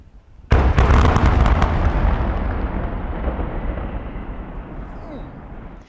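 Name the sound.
explosive demolition of old coker and cracker structures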